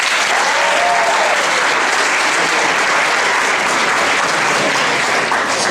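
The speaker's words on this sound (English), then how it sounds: "Just by a round of applause, I want to get to know you guys" Sustained applause from a large audience fills the whole stretch, dense and steady with a faint murmur of the crowd beneath.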